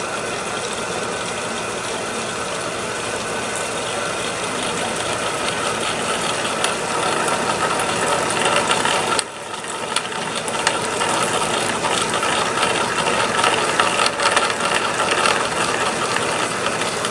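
A 100-year-old, 500-pound drill press runs a large bit through a hole, producing a loud, steady mechanical whir and grinding that continues throughout, with a brief dip partway through.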